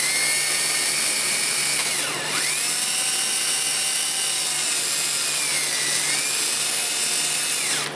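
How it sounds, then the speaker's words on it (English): Small electric drill spinning a rotary file against the outer lip of a transfer case input seal bore on a Ford F-150, a continuous high whine with pitch dips as the bit loads up against the edge, close and steady. "I'm going to use this little rotary file on the end of a drill."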